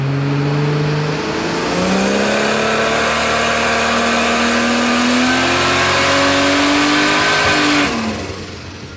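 Ford 250 Crossflow inline six-cylinder engine revving on a dyno, a loud close drone climbing steadily in pitch for several seconds, then cutting off and winding down.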